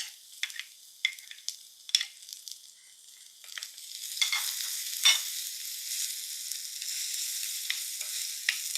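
Ginger garlic paste, green chili, shallots and curry leaves sautéing in hot coconut oil for a fish curry, a steady sizzle that swells midway, broken by sharp scraping stir clicks, close and alone.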